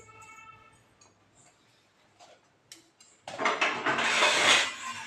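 Masala spices are ground in a mixer, which starts after faint clinks and ticks of kitchen utensils and becomes a loud, rough, whirring grind that carries on to the end.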